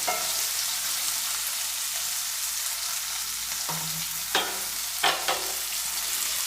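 Ingredients fry in a pan for a country-style chicken curry: a dense, continuous sizzle with a few short scraping stirs near the end, and no talking.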